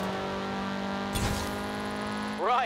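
Car engine in Forza Horizon 4 dirt racing: a steady engine drone, a brief whoosh of a passing car midway, then a quick rev rising and falling near the end.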